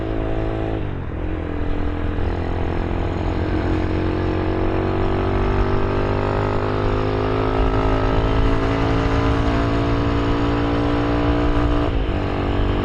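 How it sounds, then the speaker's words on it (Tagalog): Kawasaki Z200 motorcycle engine at a steady cruise while riding on the road, loud and close, a continuous droning hum with a brief dip near the start and another near the end, no talking. "Grabe, sarap ng motor."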